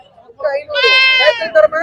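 A goat kid bleats at the Kunnathur goat market, one drawn-out, wavering cry rising over nearby voices and market chatter.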